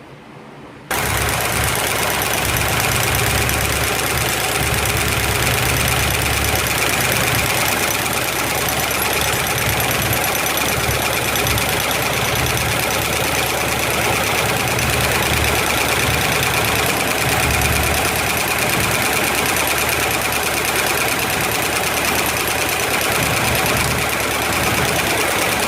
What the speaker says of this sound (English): I think I'm going to warm it up enough to get it to idle nice